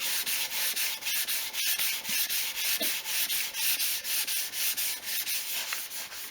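Wet sanding of a guitar body's clear coat on a metal-flake Stratocaster, flattening the back with lubricant: steady rhythmic rubbing strokes, close and continuous, about two per second, with no voices.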